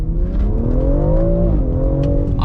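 A 2020 BMW X3M with a stage 1 tune under way, its engine holding a steady drone that rises slightly in pitch and then eases, heard close from inside with no talking.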